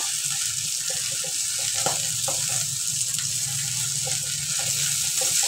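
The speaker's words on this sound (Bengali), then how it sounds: "এভাবে আমি সব মাংসগুলো ভেজে নেব" Pieces of minced chicken sizzle steadily in a hot pan, a constant close frying hiss broken by a few light stirring knocks and scrapes, with no talking.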